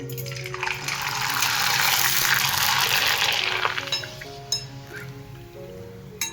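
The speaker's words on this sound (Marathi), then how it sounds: "मग तुम्हाला दुसरा पण तळून दाखवते" A rava papad fries in hot oil with a loud, close sizzle that swells and then dies down, followed by a few light metallic clinks of a utensil.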